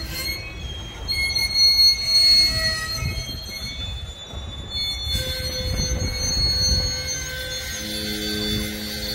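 A Florida East Coast Railway freight train eases to a full stop in the New Smyrna Beach yard, its wheels squealing in long, high, loud tones over a steady low rumble of heavy cars.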